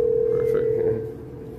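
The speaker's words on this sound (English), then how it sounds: "I can hear his phone ringing when I call the concierge." A telephone rings over the line while someone calls a building concierge: one steady electronic tone, fairly loud and close, that fades out partway through.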